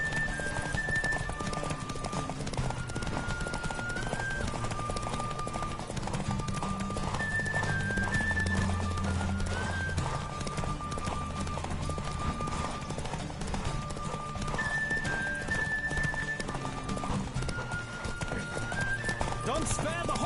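Horse hooves gallop in rapid clip-clop rhythm during a race in The Witcher 3 video game, continuous and close under game music, with voices talking over it.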